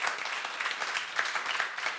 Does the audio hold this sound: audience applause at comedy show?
yes